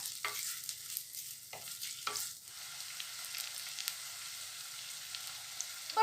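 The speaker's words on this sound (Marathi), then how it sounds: "आपला कांदा छान फ्राय झालेला आहे" Chopped onions fry steadily in a pot over a medium flame, a continuous soft sizzle broken by a few brief scraping stirs near the start, with no talking.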